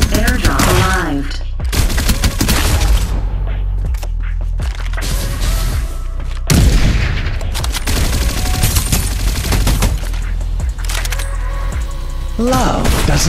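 Dense, loud gunfire and blasts from a Farlight 84 battle-royale match, with rapid automatic bursts and heavy impacts running almost continuously and a few brief lulls.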